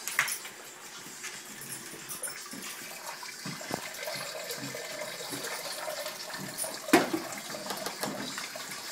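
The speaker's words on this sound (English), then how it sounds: "Pressing it down, stirring it around, making sure that all the grains get washed." Brewing grains for a sweet stout being stirred and pressed down in water, giving soft sloshing and swirling splashes with an occasional sharper slap, moderately close and steady.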